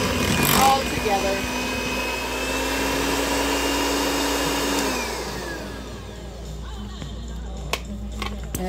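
An electric hand mixer whirs through pumpkin cake roll batter, a steady motorized hum that winds down to a stop partway through, with kitchen clatter and a voice talking afterward.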